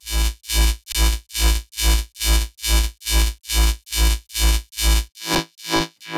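A clean mono future riddim bass synth pulses in a steady run of about a dozen loud, wide, buzzing throbs with short gaps between them, ending in a few choppier hits, heard alone.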